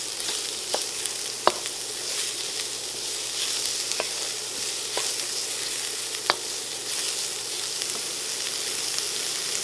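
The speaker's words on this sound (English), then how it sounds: "and then we're going to add our diced tomatoes." Diced tomatoes cook in a hot pan for a vegan curry, giving a steady, even sizzle with occasional sharp clicks of a utensil against the pan.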